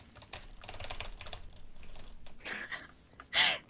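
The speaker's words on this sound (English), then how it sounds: "Stop being so aggressive with your keyboard." Rapid, forceful typing on a computer keyboard, a dense run of clattering keystrokes at close range, with a louder burst of hard key hits near the end and no talk.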